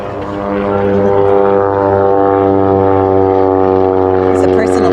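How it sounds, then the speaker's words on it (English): A small personal propeller plane takes off near Fairbanks, Alaska, its engine droning loud and steady with a strong buzzing harmonic hum that rises in volume and holds, close to the listener. "It's a personal plane taking off."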